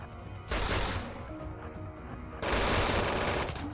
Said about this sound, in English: Whoa, that nail gun, Morrow.